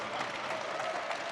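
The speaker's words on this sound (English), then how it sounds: "give Jack more applause than that if you ever want a free Jack cigar" Audience applause at a live fireside chat with a cigar magazine, a steady, dense wash of clapping from a crowd, fairly distant and continuous with no pauses.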